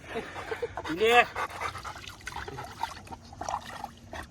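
Leo, a dog hot from the heat, laps up water with wet trickling sounds and pants close by, while a human voice cuts in briefly.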